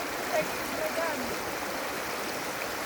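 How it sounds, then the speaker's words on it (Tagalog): A strong river current rushes steadily nearby, a continuous broadband roar of flowing water in the Abra river, swollen higher than usual. "Kaya ngayon, maalakas ang agos."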